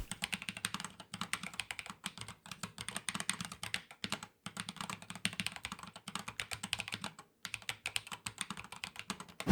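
Typing on thick custom keycaps with 1.8mm walls gives quick, close, rhythmic keystroke clacks in steady bursts with brief pauses between.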